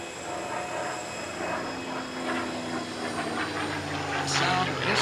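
A WWII P-51 fighter plane passes overhead at the Edwards AFB airshow, making a steady, loud engine roar and wind rush that swells slightly toward the end.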